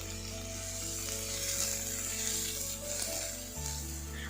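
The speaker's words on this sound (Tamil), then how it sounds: "நல்லா பொடி பொடியாக நறுக்குன ஆனியன், 2 பச்சை மிளகாய், இது நல்லா வதங்கட்டும்" A steady sizzle of finely chopped onions and two green chilies sautéing in hot oil, crackling softly and continuously up close with faint stirring and a low hum beneath.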